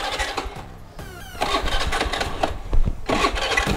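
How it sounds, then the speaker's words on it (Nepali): A broken-down scooter engine is cranked with a rapid whirring starter, then catches and runs with a loud, rough, uneven idle that surges, close up and with no one talking. "के भयो फेरि स्कुटर बिग्रे जस्तो छ यार"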